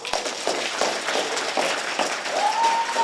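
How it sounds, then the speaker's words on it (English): A poetry slam audience bursts into dense, sustained applause and cheering, loud and continuous, filling the hall at a student bout. "Applaud the poet."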